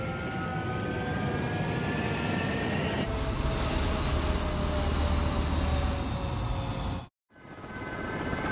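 Fighter jets roaring on a runway in a video game, a steady broad engine rumble with whining tones that holds loud throughout, briefly cutting out near the end before returning.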